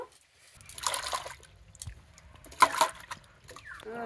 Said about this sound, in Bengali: এই গরম জলে আমি এই চালতেগুলোকে ধুয়ে নেব ভালো করে, একটু চটকে চটকে ধুয়ে নেব।